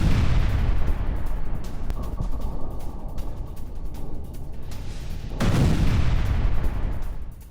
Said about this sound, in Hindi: किस तरह से गाजा में इजराइल ने की है एक बार फिर जोरदार बमबारी